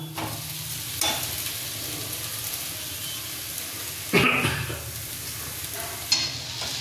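Fish balls sizzle steadily in hot oil in a pan with spices, a constant crackling hiss broken by a few louder scrapes and knocks of a spoon stirring near the start, midway and toward the end.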